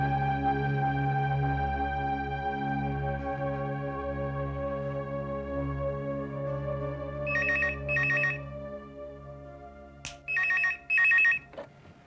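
A telephone rings in short electronic bursts, three or four repeated trills late in the clip, heard over a sustained dramatic musical drone with no voices.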